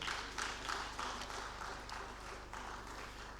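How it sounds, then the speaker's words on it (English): Audience applause at a Nigerian conference session on CAADP implementation, given for a speaker: moderate, fairly distant clapping with soft rhythmic pulses, continuous for a few seconds in a hall. "Another round of applause for him"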